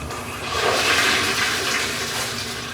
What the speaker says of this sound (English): And when we're done scrubbing the toilets, we always want to flush it.